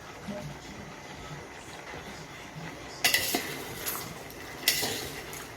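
Mango pieces and about two kilos of jaggery stirred together in a pot for Gujarati pickle, with a low scraping background broken by a few sharp metallic clanks of the spoon against the pot, moderately close.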